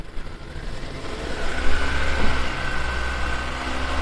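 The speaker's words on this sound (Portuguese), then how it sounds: "Daniel, dá mais um pouco de rotação aí." A car engine in a workshop during an ABS brake fault diagnosis revs up from idle to a higher, steady rotation, a continuous, fairly loud drone with a faint rising tone and no talking.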